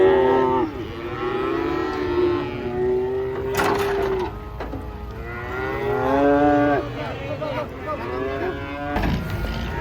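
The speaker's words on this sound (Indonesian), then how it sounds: "Pada teriak suara sapi nih." Calves and adult cattle just unloaded from a truck moo and bawl in repeated drawn-out calls, several animals overlapping at close range amid background commotion.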